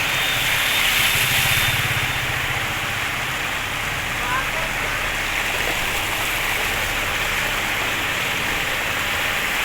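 Rainwater rushes steadily along a flooded street during a downpour, a continuous close hiss and wash that doesn't let up.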